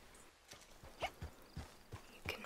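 Horse hooves clop at a steady walking pace while riding through the countryside in Red Dead Online, several soft, close thuds spaced evenly and heard alone at low volume.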